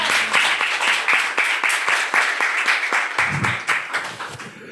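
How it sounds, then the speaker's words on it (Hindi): A church congregation claps together during a Hindi sermon, with steady rhythmic handclaps that carry on through the whole stretch, loud and dense, with no voice over them. "ताली बजाए प्रभु की महिमा करें।"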